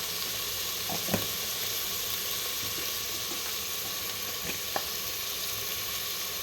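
Onion masala with turmeric and red chili powder fries steadily in a pan for biryani, a continuous close sizzle with a few brief stirring clicks and no talk.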